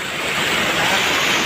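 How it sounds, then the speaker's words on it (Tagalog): A strong, fast-flowing river current roars in a steady, dense rush of water, loud and close, with no break or voices over it. "Lakas na agos niya, no?"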